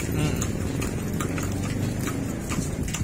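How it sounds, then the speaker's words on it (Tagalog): Hooves of a horse pulling a kalesa carriage clip-clop steadily on a street in Little Vigan, Gapan City, Nueva Ecija, under continuous nearby conversation and road noise. "Ito kalesa."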